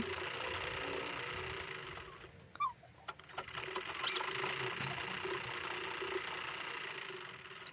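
Sewing machine stitching a katori blouse, a steady mechanical whir running nearly throughout, with a brief pause near the middle before it resumes at even loudness.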